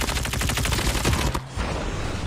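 Dense, rapid gunfire in COD Mobile, including shotgun blasts, a continuous loud barrage that briefly dips before resuming.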